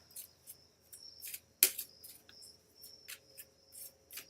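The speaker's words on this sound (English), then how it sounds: "and so now I'm shuffling for Aaron and waiting for him to say stop." Playing cards being shuffled by hand, a series of soft, rapid riffling bursts repeating in an irregular rhythm, with one sharper snap near the middle, close and faint over a quiet background with a thin steady tone.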